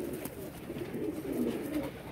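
Pigeons coo nearby in soft, low, throaty rolling calls that overlap continuously for a couple of seconds, with light background noise.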